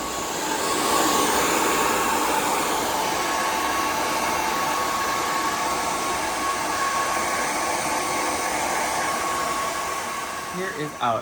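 A hair dryer blow-drying hair in a salon, a loud, steady, close whoosh running continuously throughout with only slight shifts in tone as the airflow moves.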